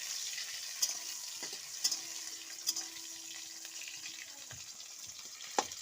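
Spices tempering in hot oil for moong dal, a faint continuous sizzle with several sharp clinks of a utensil against the pan spread across the clip.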